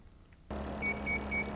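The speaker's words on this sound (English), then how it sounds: "3 consecutive beeps from the Portacount signal that the fit test is complete" A TSI Portacount respirator fit tester gives three consecutive short electronic beeps, evenly spaced and clear, over a steady low background hum.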